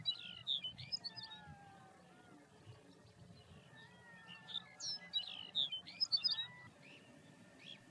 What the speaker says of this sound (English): Male Lapland buntings were vociferously holding territory.